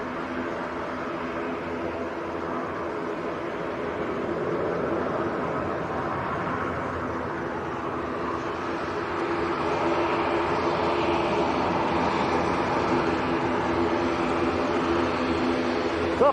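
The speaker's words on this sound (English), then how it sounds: "The Global Express that's taxiing out is going out to Naples actually" A NetJets Bombardier Global Express business jet taxis out at Manchester Airport, a steady, broad engine whine and rumble that holds constant and swells slightly toward the end, with no talking.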